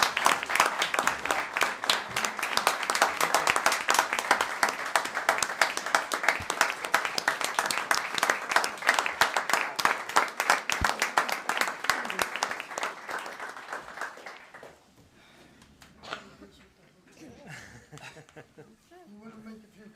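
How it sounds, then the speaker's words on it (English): Sustained applause from a council meeting audience honoring two retiring members, dense steady clapping for about fourteen seconds before fading out into quiet room sounds and a few scattered claps. "Please join me and give a round of applause for both Diane and Alex for all their years"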